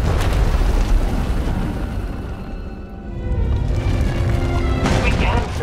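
Vaylin's uncontrolled power erupts through an asylum in the SWTOR video game as a sustained, loud, rumbling explosion with repeated deep blasts and roaring debris.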